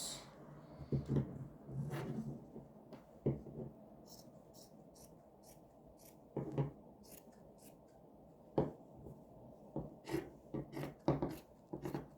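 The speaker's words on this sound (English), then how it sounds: "So now we're going to cut it out." Scissors cut out fabric for a skirt with quiet, scattered snips and rustles, some in quick clusters, separated by near silence.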